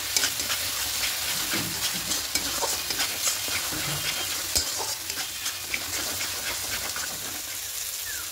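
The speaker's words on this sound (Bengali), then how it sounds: "এবার খুব ভালো করে কষিয়ে নেব আবার।" Katla fish curry sizzles continuously in a pan while being stirred, giving a dense frying hiss with frequent small scrapes and knocks throughout.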